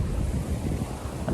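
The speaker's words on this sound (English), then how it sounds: "Very windy." Strong wind buffets the microphone in a steady, heavy roar with low rumbling gusts throughout, no voices.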